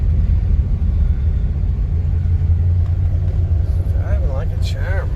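A 1953 Mercury Custom with a V8 and automatic transmission drives along, giving off a continuous deep low rumble with road noise, and a voice speaks over it near the end.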